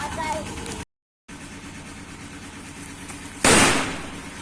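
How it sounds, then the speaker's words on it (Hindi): A firecracker from a long-opened packet bursts outdoors with one loud, sharp bang near the end, following a stretch of car engine idling in the background. "तो ये मैंने एक बम तो फोड़ के देख लिया है"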